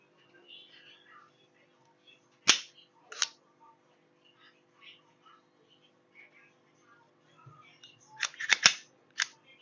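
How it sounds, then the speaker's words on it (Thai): A BLOW Mini9 blank gun fires five sharp shots, two early and three in a quick cluster near the end, each a crisp close crack standing out from a quiet background with light talking. "ทดสอบปืนแบงกันนะครับ 5 นัด"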